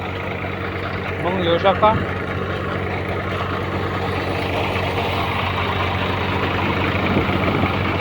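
A tractor engine idles steadily at close range, its low rumble continuing throughout while someone talks over it.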